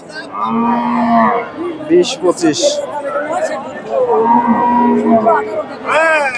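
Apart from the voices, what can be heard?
cow mooing at cattle market in Bogura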